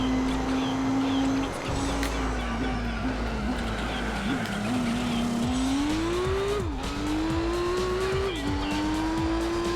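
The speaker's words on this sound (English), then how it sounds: "That's a pretty cool noise if you just leave it in first gear to rot." A racing video game car engine held in first gear, droning steadily with a high, wavering whine that rises and dips throughout, loud and continuous.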